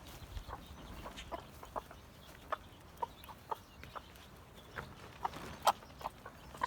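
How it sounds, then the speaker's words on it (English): A broody hen sitting on a clutch of about seven eggs in a mixed-age backyard flock clucks in short, sharp bursts spaced irregularly over a low, quiet background. "Here's one of the broody hens"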